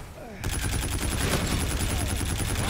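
Dense automatic gunfire from the video game Call of Duty: Infinite Warfare erupts after a brief quieter lead-in, a loud continuous stream of rapid shots with layered bursts and explosions filling the whole stretch.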